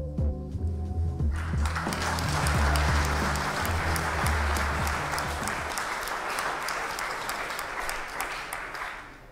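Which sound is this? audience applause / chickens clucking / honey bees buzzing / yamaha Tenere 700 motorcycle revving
audience applause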